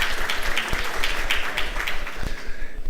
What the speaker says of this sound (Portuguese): obrigado pelas palmas